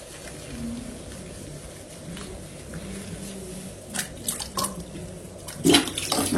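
Water poured and splashed while a newborn baby is bathed at home, with a soft steady trickle at first and then a few louder, close splashes building toward the end.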